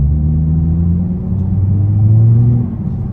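Toyota Corolla E210 with a modified exhaust, heard from inside the cabin as a low steady drone with a rising engine note, moderately loud and without talk.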